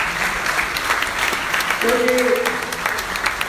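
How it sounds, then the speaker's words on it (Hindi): Audience applause welcomes alumni at a university college orientation day. The dense, steady clapping fills the hall while a voice briefly speaks over it. "इनके लिए जोरदार तालियों के साथ आप लोग स्वागत करें।"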